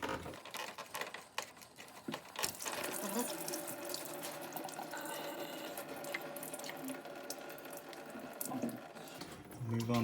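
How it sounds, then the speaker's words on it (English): Radiator coolant drains from a disconnected hose on a Ford Ka during a thermostat replacement, a steady splashing gush of liquid running continuously and fairly loud, with no talk. "we should have a bit of radiator water come out here."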